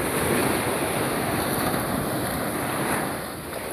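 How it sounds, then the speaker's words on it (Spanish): Ocean waves break steadily on Playa Salguero, a Santa Marta beach suffering erosion, giving a continuous loud wash of surf with wind noise on the microphone and no voices. "Y aquí el oleaje, como les dije, ya es un poquito más fuerte."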